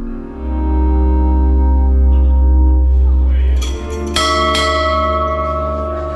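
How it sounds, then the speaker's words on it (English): The bell at Goulburn Jail is rung to call officers to parade, a loud, deep metallic clang that rings out, with a fresh strike about two-thirds of the way through. "they ring the bell to call officers to parade in the way the Royal Marines did two centuries ago"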